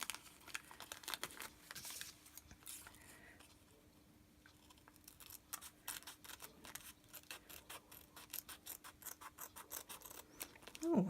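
Quiet, close crinkling and snipping of thin cellophane being cut with scissors, in bursts with a brief lull partway through, ending with a louder rustle.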